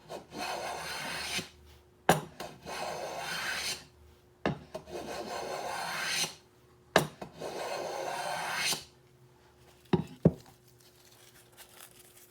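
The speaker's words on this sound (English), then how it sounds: "I could take a heavy shaving if I want to." Long strokes of a freshly sharpened hand plane peeling heavy wood shavings, four steady rasping passes with short pauses between, followed by a couple of sharp knocks, close and clear with no talking.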